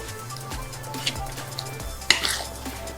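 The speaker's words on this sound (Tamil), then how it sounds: "இப்போ நம்ம முந்திரி வறுக்கிறோம் இல்லையா" Cashews roasting in a pan on the stove, with faint sizzling and a few stirring and utensil clinks against the pan, low steady kitchen rumble underneath.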